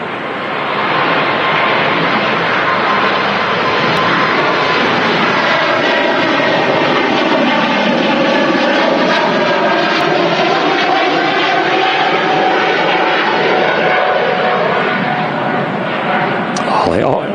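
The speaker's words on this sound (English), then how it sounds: "I can hear some engine starting as well." A jet engine spools up at Manchester Airport, a loud continuous roar with a slowly shifting whine that fills the whole stretch, with voices faintly underneath.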